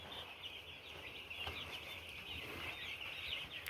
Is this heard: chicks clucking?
yes